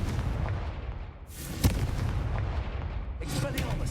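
A blasting spell detonates in the Hogwarts Legacy video game: a sharp, loud burst lands mid-clip over a rumbling low background, with a further crackling burst near the end.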